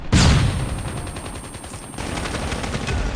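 A flashbang grenade going off in COD Mobile, one sharp loud bang at the start followed by a ringing, rumbling tail of game noise.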